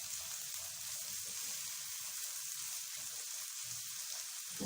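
Chopped capsicum sizzles in a hot pan for Chinese fried rice, giving a steady, close frying hiss with soft crackles and no voices.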